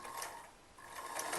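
A sewing machine stitching a kurti runs in a fast, even whirring rhythm up close, dipping slightly midway before picking back up.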